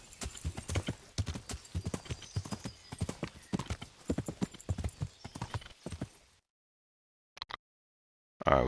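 Pebbles the horse in the video game Kingdom Come: Deliverance trots with quick, regular hoof clip-clops for about six seconds, then falls silent apart from two brief later bursts.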